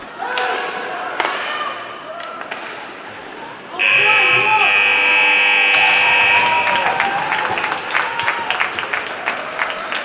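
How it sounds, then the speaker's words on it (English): A long, loud electronic buzzer sounds for about three seconds at an ice rink, ending a women's under-16 ice hockey match between Whitley Bay and Sheffield Shadows, amid crowd noise and a commentator's voice. "And the buzzer goes. I think for this time it is the final buzzer."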